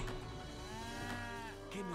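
Cattle lowing in the video game Age of Empires 3, one drawn-out moo rising and falling over a busy background of game sounds, moderately loud.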